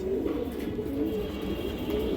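Pigeons coo in soft, wavering phrases at a breeder's farm, where a female and male kanthi gola pair sit close; the rolling calls repeat steadily without speech.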